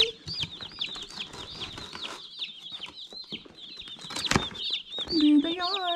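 Box of baby broiler meat chicks peeping continuously, many high thin chirps overlapping close by, with some rustling and a brief louder sound near the end.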